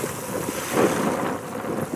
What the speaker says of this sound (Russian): у нас тут ветрище 20 метров в секунду